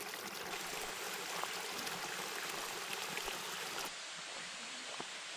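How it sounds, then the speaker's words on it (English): Steady rushing water from a waterfall in Custer State Park, South Dakota fills the air, a continuous broadband roar, ending abruptly after a few seconds. "I'm still climbing down, down, down, but I think I hear a waterfall."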